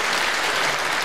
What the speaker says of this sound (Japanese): 皆さんほんの少しでいいですから拍手をいただければ